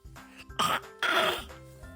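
Two short, breathy coughs close to the microphone, one after the other, in an otherwise quiet room; a child's pretend cough while playing with a toy car.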